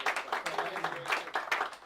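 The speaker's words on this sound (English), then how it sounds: "give Duncan a clap just for that" A small audience at a live author talk claps in scattered, irregular bursts, faint and thin in the room.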